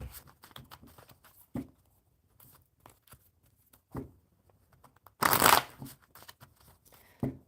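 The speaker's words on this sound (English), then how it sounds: "One more super good shuffle." Playing cards being shuffled, short riffling bursts and soft taps coming in uneven spurts, one louder, longer riffle near the end, close and clear in a quiet room.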